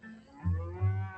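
Cattle on open range in Saskatchewan mooing, a low drawn-out lowing that swells twice in close succession, moderately loud with no talk.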